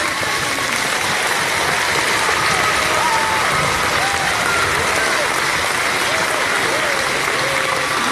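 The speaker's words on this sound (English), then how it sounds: "Let's give another round of applause." Sustained applause from a large crowd at an elementary school Teacher of the Year announcement, a dense wall of clapping filling the whole stretch without a break.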